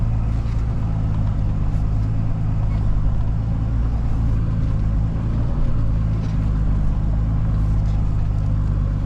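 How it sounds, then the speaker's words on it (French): A Nissan Patrol 4x4 on a muddy trail, its engine giving a steady, loud, low rumble as the steering reaches full lock, a continuous drone with no one talking. "C'est quand j'arrive en butée de direction, ça fait ça."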